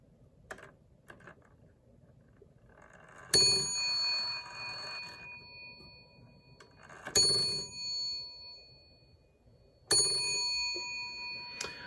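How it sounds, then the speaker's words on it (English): An antique clock's single bell, used for both alarm and strike, rings three times in sharp metallic dings with a lingering tone, separated by quiet gaps with faint mechanical clicks. "they use the same bell for the alarm and the strike"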